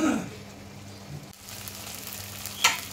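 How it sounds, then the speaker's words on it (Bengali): Spice paste frying in hot oil for an egg curry with potato and elephant foot yam, a short soft sizzle with a stir or clink near the end and faint background tones. "এবার ভালোভাবে মশলাটাকে কষিয়ে নেব।"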